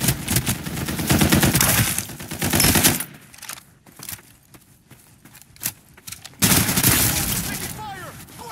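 Heavy machine gun fire in the battle royale shooter Farlight 84, loud rapid bursts at the start and again near the end, with a quieter gap of scattered shots and game sounds between.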